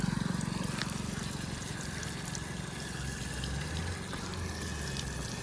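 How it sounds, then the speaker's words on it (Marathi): Water trickling along in a small roadside stream, a soft continuous burble with a low steady rumble beneath, fairly quiet and without voices. "तर इथे पाणी थोडं वाहत आहे."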